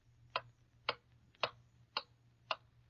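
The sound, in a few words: clock ticking in a 1939 radio advertisement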